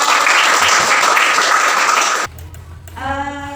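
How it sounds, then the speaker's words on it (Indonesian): A classroom of students claps their hands together in a classical guidance lesson, a loud, brisk burst of group clapping that cuts off sharply partway through, followed by a teacher's voice. "Kita tepuk tangan dulu semuanya"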